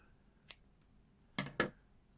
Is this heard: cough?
no